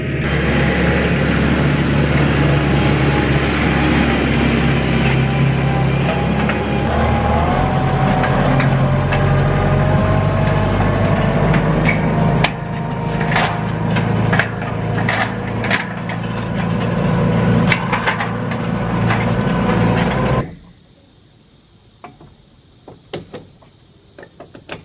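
A Kubota tractor pulls a chisel plow across a field, a loud, steady engine drone with scattered cracking and clattering that cuts off abruptly near the end, leaving near silence with a few faint knocks.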